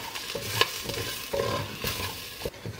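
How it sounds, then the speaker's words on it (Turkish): Flour and tomato paste sauté in a pan with a light sizzle as a spoon stirs and scrapes, with quick, uneven knocks on the pan. "1 yemek kaşığı domates salçası ve tepeleme 1 yemek kaşığı un ekliyoruz. Ve kavurmaya tekrardan devam ediyoruz."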